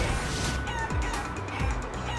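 A chicken character in the video game Guacamelee makes brief fowl clucks and squawks over busy game music and effects, with a couple of short low thumps in a quick two-second burst.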